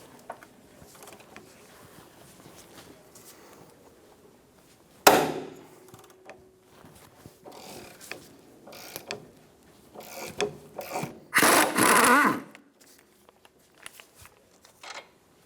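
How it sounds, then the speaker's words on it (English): A 19mm socket turns the nut off the strut mount on a 2003-2007 Infiniti G35, giving close, intermittent mechanical clicks and rubbing, with louder bursts of ratcheting near the middle and toward the end. "Using a 19mm socket, remove the nut off of the strut mount."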